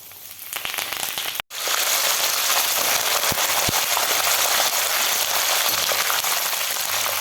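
Cumin seeds and other ingredients for crispy chooda fry in hot oil, a loud, steady, crackling sizzle that briefly cuts out near the start and then runs on unbroken.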